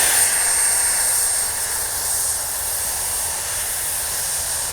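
A small 70mm jet turbine on a Freewing F-16 RC model whines steadily at high pitch, loud and close, with a rushing roar that eases slightly before cutting off abruptly.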